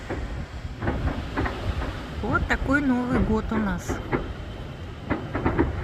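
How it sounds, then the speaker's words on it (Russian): Very strong wind on a New Year's night roars steadily around pine trees amid light drizzle or wet snow, a dense continuous rush throughout while someone speaks over it. "Очень сильный ветер"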